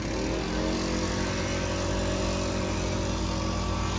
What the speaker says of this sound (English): I don't know if you can hear me with this leaf blower over there going